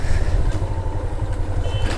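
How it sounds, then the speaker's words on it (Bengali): A Honda CB Hornet 160R motorcycle engine is throttled hard, giving a steady, loud low rumble with a wind-like roar over it and no clear rise in pitch. "এই যে কত জোরে থ্রটল দিতেছি, ফাড়াই ফেলাইতেছি থ্রটল দিয়ে, কিন্তু আর যায় না"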